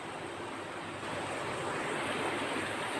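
French fries frying in hot oil for serving with chicken mandi rice make a steady, even sizzle that runs unbroken and grows slightly louder partway through.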